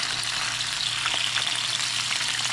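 Chilean sea bass fillet pan-searing in a hot pan, giving a steady, close, even sizzle and crackle that holds for a couple of seconds with no voices.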